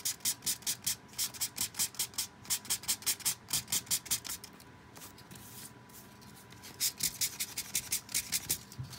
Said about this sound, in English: I'm gonna take some sandpaper, so if you don't like the sound, just giving you a little bit of forewarning here.